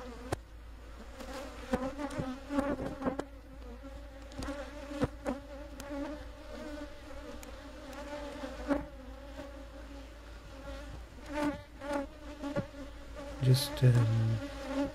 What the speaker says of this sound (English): You can start to see the bees now starting to become a little bit defensive, flying towards the camera, flying all around